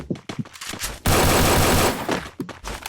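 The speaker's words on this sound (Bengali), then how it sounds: "এমপি ফাইভ এর রেট অফ ফায়ার বেশি দেখি" MP5 submachine gun fire in a shooting video game: a few short bursts, then a dense sustained stream of rapid shots lasting about a second, followed by more scattered clipped bursts, loud and close.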